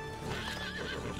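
Horse hooves clip-clopping with a neigh in the Red Dead Redemption 2 video game, steady and close, with a whinny rising over continuous hoofbeats and no talk.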